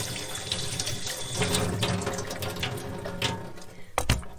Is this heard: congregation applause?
no